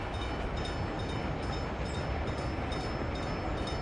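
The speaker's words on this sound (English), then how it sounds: "Now that other train drove really far." A steady, continuous rumble of a train rolling along the track in the Workers and Resources game, unbroken for several seconds with faint rhythmic clicking and no voices.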